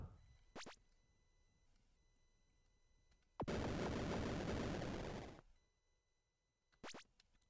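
Shots from a JS/HTML5 browser shooter game: two short whooshing zaps at the start and end, and a loud sustained two-second blast of noise in the middle, over a quiet electronic hum.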